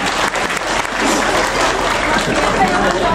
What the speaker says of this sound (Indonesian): Boleh tepuk tangannya deh buat kita semuanya.